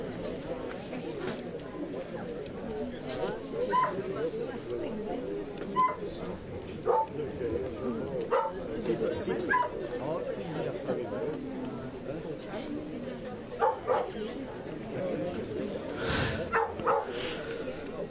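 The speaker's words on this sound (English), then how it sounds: "the dog that's getting slightly irate on the bank" A dog on the bank at an outdoor lawn bowls championship gives scattered short barks and yips at mid distance, heard under continuous commentary and background chatter.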